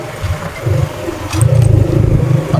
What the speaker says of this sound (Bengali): 5টা গিয়ার আমি আস্তে আস্তে উঠাচ্ছি।